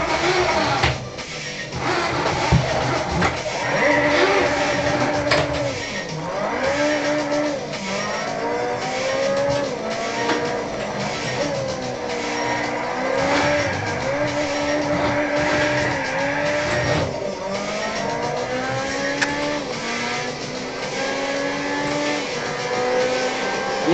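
Tuned Amuse Honda S2000 engine driven hard on a race track, loud and close throughout, revs rising and falling with each gear change and corner, with occasional tire squeal and no talking.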